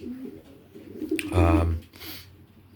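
Racing pigeon cocks in a loft give a short, rich burst of cooing in the middle, close and fairly loud over soft background rustling and murmur.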